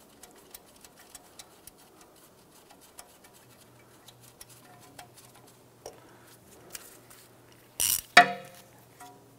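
A wrench turns the bolt on a new front ABS speed sensor on a 2005-2007 Ford Five Hundred, giving a run of faint, evenly spaced ratchet ticks, then a couple of louder clanks near the end.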